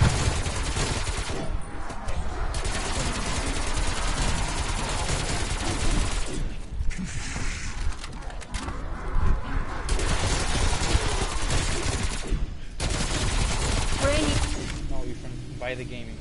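AK rifle fire in the Black Ops Cold War zombies mode, dense rapid bursts of gunfire running through most of the stretch with brief pauses, while players talk over it.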